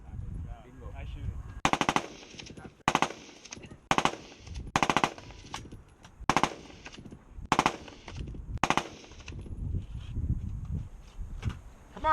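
Machine gun fire at an outdoor shooting range, about nine loud short bursts of rapid shots spaced a second or so apart, with people talking between the volleys.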